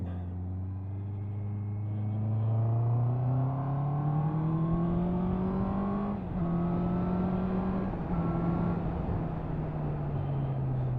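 A 2023 Honda CB650R four-cylinder motorcycle revs up through the gears with a buzzy, rising engine note, dropping briefly at each shift and climbing again, close and loud.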